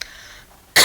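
A woman gives one short, loud throat-clearing cough at the very end, after a moment of quiet breathing and faint hiss.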